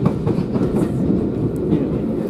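A rail passenger ride hauled by locomotive 45606 Falkland Islands on the Kentish Belle on Armistice Day: a steady rumbling train interior with rhythmic clickety-clack of wheels over rail joints, continuous and fairly loud, with no talking.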